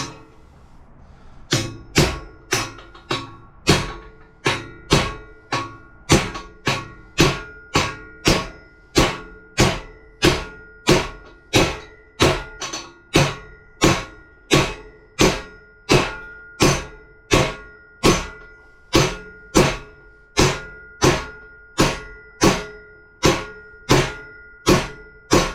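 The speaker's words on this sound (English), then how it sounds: "I usually like to use a little mini sledge." A small mini sledgehammer knocks a part into a ProRock 60 RC car gear differential, about thirty sharp metallic blows in a steady rhythm, close and loud, with quiet gaps between.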